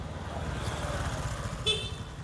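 A street in Phra Pradaeng carries steady low traffic rumble, then a single short car horn toot sounds near the end, fairly close and brief against the passing-vehicle noise.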